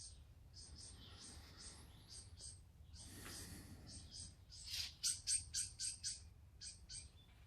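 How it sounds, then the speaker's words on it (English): Small birds at a feeder chirp and tweet in short repeated bursts, about 15 feet away, over a faint low background hum, growing busier toward the end. "I put out fresh bird seed this morning, so there's lots of bird sounds about 15 feet behind me."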